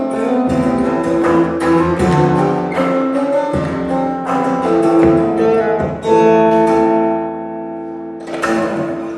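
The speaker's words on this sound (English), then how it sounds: "eventually it sounds like a real drum when I combine my bass with the guitar and" Layered acoustic guitar strumming with percussive hits, backed by a bass line and drums, full and loud with brief pauses between phrases.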